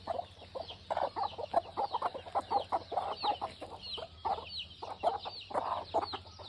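Several hens, some of them broody, cluck softly and repeatedly in an irregular, chattering rhythm close by over a low steady hum in the background.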